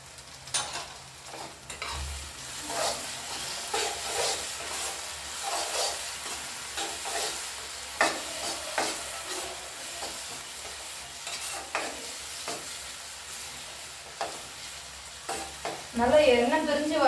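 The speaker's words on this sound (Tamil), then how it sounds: "நல்லா எண்ணெய் பிரிஞ்சு வர அளவுக்கு வதக்கிக்கோங்க." Ground tomato sautéing in oil for dried vanjaram fish thokku, a steady close sizzle and fry with repeated spoon-stirring scrapes throughout, louder bursts near the end.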